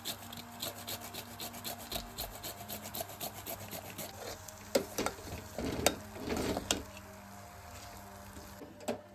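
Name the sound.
grating nutmeg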